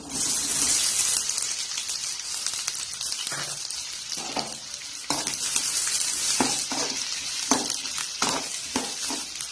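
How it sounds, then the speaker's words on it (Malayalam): Finely chopped onion dropped into hot sunflower oil for a soya masala, a loud steady close sizzle and crackle with occasional stirring scrapes throughout. "എണ്ണ നന്നായി ചൂടായി വന്നിട്ടുണ്ട് ഇതിലേക്ക് സവാള ചെറുതായി ഇട്ട് കൊടുക്കാം"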